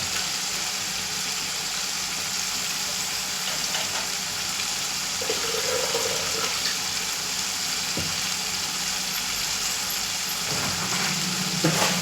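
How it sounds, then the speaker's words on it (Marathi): Masala sautéing in oil in a pan, cooked until the oil separates, gives a steady low sizzle and bubbling all through, with a few brief scrapes or taps; no one speaks. "तेल सुटेपर्यंत मी परतून घेतलं आहे."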